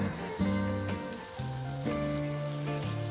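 Onions and mushrooms sauté on a flat-top griddle, giving a continuous hissing sizzle under louder background music with sustained melodic notes, no speech.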